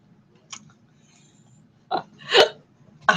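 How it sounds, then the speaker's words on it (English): Someone hiccups a few times, short sharp throaty bursts separated by quiet pauses, close to the microphone and with no speech around them. "I'm hiccuping because it requires a hiccup."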